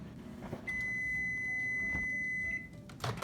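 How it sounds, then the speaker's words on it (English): A microwave oven heats a covered plate of snack mixture, giving a steady running hum with a sustained high tone lasting about two seconds, then a few clicks near the end. "I made sure to put a cover on top of my plate so that the mixture doesn't explode in the microwave"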